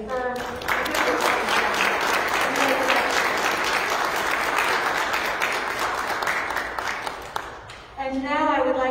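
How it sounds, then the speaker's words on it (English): A church congregation claps warmly during a worship service, sustained applause swelling and then fading, with a spoken voice at the start and again at the end. "I invite the congregation to applause as we affirm the good work."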